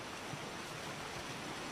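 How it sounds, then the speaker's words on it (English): Waterfall on a mountain in an anime episode, heard as a steady, broad hissing rush of falling water, even and continuous with no voices. "This waterfall behind me."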